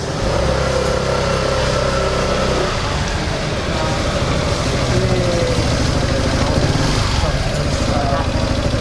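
Motorbike engine idling as a food delivery rider arrives at night, a continuous low rumble close by, with people talking over it.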